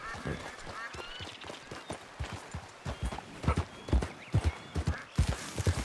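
Horse hooves clip-clopping in Red Dead Redemption 2, an irregular run of close, sharp hoofbeats on the ground, quickening toward the end, with faint voices and a brief whinny-like sound in the background.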